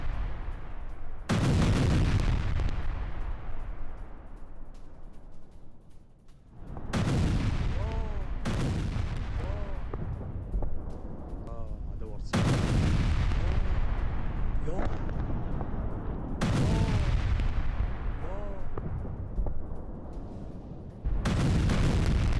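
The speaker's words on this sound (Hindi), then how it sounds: "नॉन स्टॉप बमबारी से इदलिब में महाविनाश, ये देखिए जरा। धमाकों में तबाह कई इमारतें" Heavy explosions and artillery-like booms from a relentless bombardment of Idlib, with several loud blasts and rolling rumbles repeating every few seconds, interspersed with bursts of gunfire and crackling debris.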